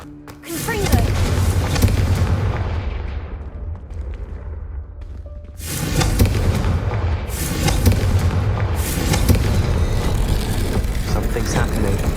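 Heavy booming blasts from the Confringo fire spell in Hogwarts Legacy, a loud impact at the start followed by another burst of rumbling explosions midway, with a voice speaking through the din.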